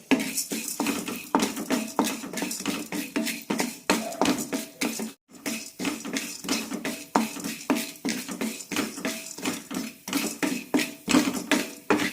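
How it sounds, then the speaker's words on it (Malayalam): Rapid, continuous metallic scraping and clinking of a utensil stirring chana dal roasting in a pan, a brisk uneven rhythm with a brief pause midway. "ഇനി ഇതിലേക്ക് രണ്ട് ടീസ്പൂൺ കടലപ്പരിപ്പിടാം ഇടാം നന്നായി ഒന്ന് വറുത്തെടുക്കാം"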